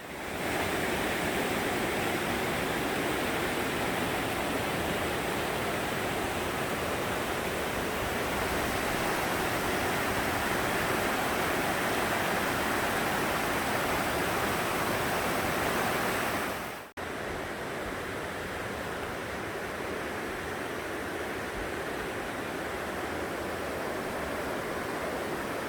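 Mountain valley stream beside a forest trail in the Odaesan fir forest, a loud steady broadband rush of flowing water running continuously, with a brief dip partway through, no voices.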